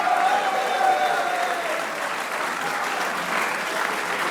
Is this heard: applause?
yes